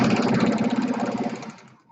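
A sewing machine runs fast stitching the second seam of a millet pillow, a rapid, even mechanical chatter close by for under two seconds before it slows and stops.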